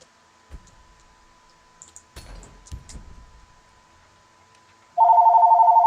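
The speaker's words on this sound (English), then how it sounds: "Oh, I'm getting a phone call." After a few faint clicks and taps, a phone's incoming-call ring starts abruptly and trills loudly and steadily in rapid pulses.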